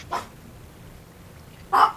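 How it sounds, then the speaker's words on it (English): A pet dog named Chico barks indoors. Two short, sharp barks are separated by more than a second of quiet, and the second bark is louder and closer. "When the dog stops barking, I will continue"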